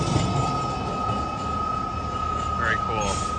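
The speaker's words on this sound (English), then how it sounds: "DC's very own Streetcar here" A DC Streetcar running along H Street in Washington, DC, a steady close rumble with a sustained tonal whine and brief wheel squeals, while someone talks over it.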